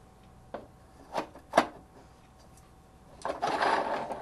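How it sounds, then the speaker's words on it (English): A counterweight being fitted into a telescope in place of the diagonal: a few faint knocks and clicks of metal parts, then a longer scraping slide as the piece is pushed in, close and quiet. "That's done by simply removing the diagonal and inserting the counterweight."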